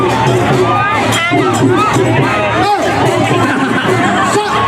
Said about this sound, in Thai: เอาละครับทุกท่านปรบมือให้กับสายชน